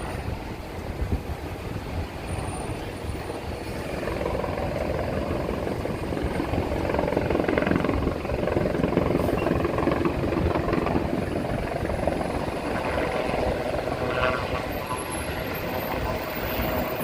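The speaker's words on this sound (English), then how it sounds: "Oh, that's a heavy helicopter there." A large heavy helicopter over New York City drones with a low, pulsing rotor thump, swelling louder through the middle as it draws closer, then holding steady.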